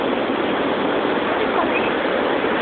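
Ocean waves crashing at a beach under a hurricane-driven swell, heard as a continuous loud, dense roar of surf with no breaks or voices.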